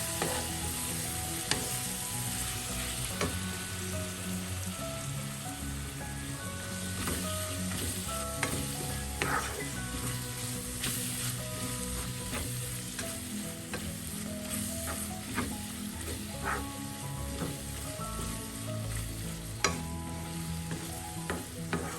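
Goat liver frying with ground black pepper, stirred steadily in a pan: a continuous close sizzle runs throughout, broken by frequent scrapes and clacks of the spoon against the pan.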